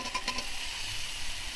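Drumsticks dropped into a hot curry pan sizzle steadily, a close, even frying hiss with a brief stir at the start and no talk.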